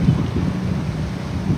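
Rain falling with low thunder rumbling through, a steady wet hiss over a deep rolling undertone, continuous and fairly loud outdoors near a coastal grave site at Tanjung Kait.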